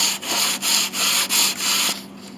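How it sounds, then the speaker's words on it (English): Sandpaper rubbing back and forth over the wooden bridge of a Mason & Hamlin piano under rebuild, loud steady rasping strokes in a regular rhythm, about six passes, close up with no talking. "Here, I'll sand some more."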